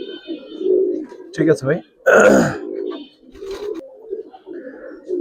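Giribaz pigeons coo in low, soft bursts close by, repeating irregularly between and beneath a man's brief spoken words.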